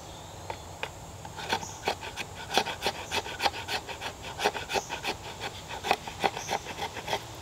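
A knife's 90-degree spine scraping a piece of fatwood outdoors in the woods, giving a steady run of close, rasping strokes repeated in a quick rhythm, with insects faintly audible in the background.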